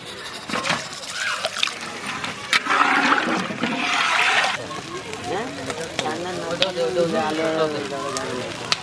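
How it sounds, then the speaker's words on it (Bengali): Bubbling, sizzling curry gravy coming to a boil in a pot, ready for fried pabda fish, with a person talking over it in places. "ঝোল ফুটে গেছে"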